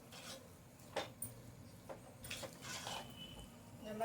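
Spoon scraping and stirring a Karnataka-style bisibela bath mixture in a pan, soft intermittent rubbing and scraping strokes, quiet and close.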